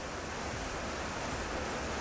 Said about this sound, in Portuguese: pensa na ventania